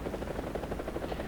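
MD500 Lahatut helicopter in War Thunder, a steady rhythmic rotor thumping with quick pulsing beats, moderately faint and heard without talk.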